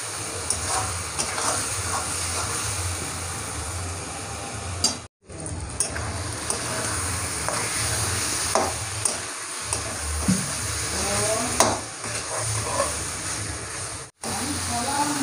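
Mutton liver is stirred with spices in a frying pan, giving a continuous hiss and sizzle with intermittent scraping strokes, broken by two short gaps and partly under a voice.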